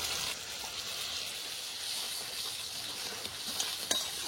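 Coconut milk goes into a pan of well-fried spice masala for a Bengali bottle gourd kofta curry, bringing a faint, steady sizzling hiss with a couple of light clinks near the end.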